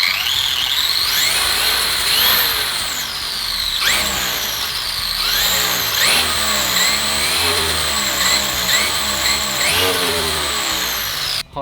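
An RC car's electric motor revs hard as the throttle is pressed, whining in repeated rising and falling sweeps, loud and close, with short pauses between bursts.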